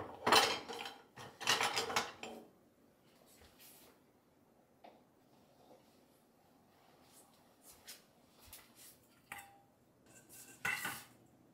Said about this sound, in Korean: 자주 쓰는 조리도구들은 손 닿기 쉬운 자리에 착착 걸어주고